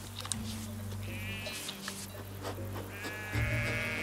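Several sheep bleat in a flock, with a few wavering calls at moderate distance and a louder, closer bleat near the end over a low background hum.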